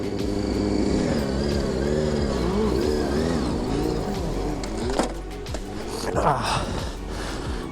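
A motorcycle engine drones and revs unevenly while the rider turns sitting stunt circles on the footbrake, its pitch rising and falling in waves, with someone talking over it and a few knocks and bumps near the end.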